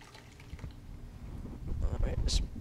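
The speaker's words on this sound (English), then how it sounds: "we're going to put the excess whey into a bowl here" Excess whey from microwave mozzarella curds poured into a bowl, a soft liquid trickle building to a heavier splashing pour near the end, with kitchen handling noise.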